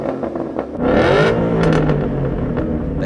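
A 2011–2014 Mustang GT fitted with a Borla street exhaust revs up, the deep engine note rising and holding close and loud for a few seconds, with no talk over it.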